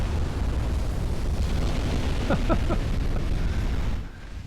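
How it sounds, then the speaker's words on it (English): A flash fire explosion aboard a warship in the naval game Ultimate Admiral Dreadnoughts, a loud sustained rumbling roar with a few crackling pops in the middle, fading slightly at the end. "Oh, got another flash fire."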